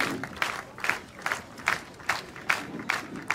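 Applause at a children's parade comes as rhythmic clapping in unison, about two or three claps per second, steady and moderately loud from a crowd.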